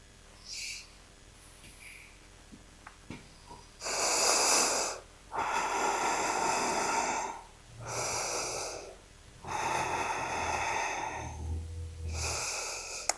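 Deep, audible exhalations during a vinyasa yoga forward fold, several long breathy pushes of air close to the microphone, with soft quieter breaths between them and no speech.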